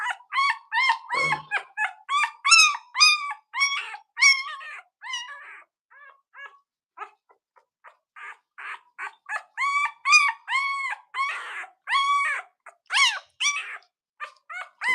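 A two-day-old newborn puppy whimpers and squeals during bottle feeding and stimulation, giving rapid high-pitched cries in close bursts with short pauses between them, and no one talks.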